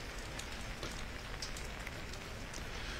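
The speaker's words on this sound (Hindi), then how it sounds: "जिस तरह से यहाँ पे बारिशें हो रही हैं" Steady rain falls in Poonch, Jammu and Kashmir, near the Jammu–Poonch highway: a dense, even patter on surfaces with scattered louder drops, constant and unbroken throughout.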